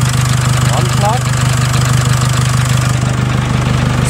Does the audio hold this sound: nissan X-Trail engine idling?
yes